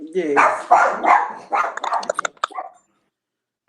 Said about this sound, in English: Y'all excuse my dog.